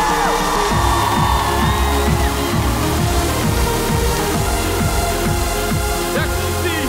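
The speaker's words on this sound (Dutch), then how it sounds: "Mag ik een groot applaus?" Loud festive crowd cheering and whooping with strong rhythmic music underneath, as Dutch vice-premier Hugo de Jonge is welcomed onto a stage at a youth event, sustained throughout.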